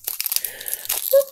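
Pokémon trading card packs from the Shining Legends set are torn open in a quick, close crinkling burst of foil tearing and crunching, ending with a short squeak.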